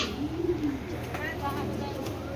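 A pair of foreign racing pigeons from a racer club coo softly at a pigeon farm, a low burbling coo early on, with faint background voices and farm ambience.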